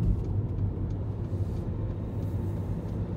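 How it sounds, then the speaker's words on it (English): A car driving on the roads around Bolton, easing off and slowing as it approaches a roundabout, heard from inside as a steady low engine and road rumble with no talking. "I'm already started slowing the car down"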